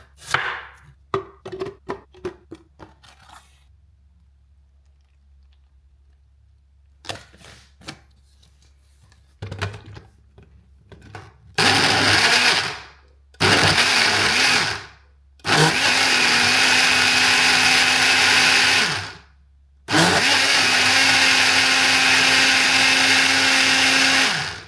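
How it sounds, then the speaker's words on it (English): A Breville Blend Active personal blender making a smoothie, with a few clicks and handling knocks first, then several loud, sustained bursts of whirring motor and churning contents, each several seconds long, separated by brief pauses. "I'm gonna make my everyday smoothie with it so you can see how it performs."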